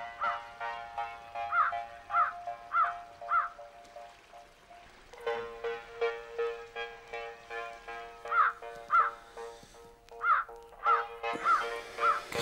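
Crows caw repeatedly in a steady, rhythmic series of harsh calls over a sustained droning tone, fairly close and clear, with no talk over them.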